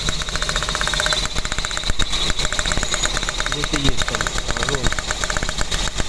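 A Hyundai Getz engine running on LPG, a steady close idle with a fine rapid ticking and even drone throughout, some rattling around the middle.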